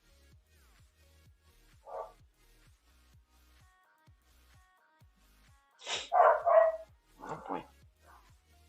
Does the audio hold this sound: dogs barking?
yes